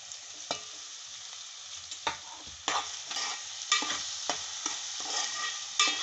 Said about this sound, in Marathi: त्याचं तेल जे होतं ना ते टोपात टाकलेलं आहे आणि आता त्याच्यात कांदा फ्राय करून घ्यायचा